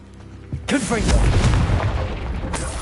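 Confringo fire spell blasting in Hogwarts Legacy, a sudden loud booming explosion with a rumbling, crackling tail that lingers for about two seconds, followed by a second sharp burst near the end, with a voice in the background.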